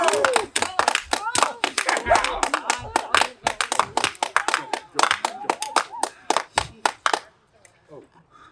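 Audience in a play clapping together in a fast, uneven burst of sharp hand claps, dense for about seven seconds before thinning to a few scattered claps.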